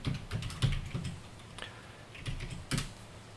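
Someone types commands on a computer keyboard, tapping out short irregular clusters of keystrokes up close in an otherwise quiet room.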